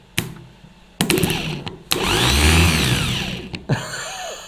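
A car starter motor being repaired whirs and grinds in short bursts, with sharp clicks as the wire is connected, rising into a sustained loud spin for about two seconds before cutting off.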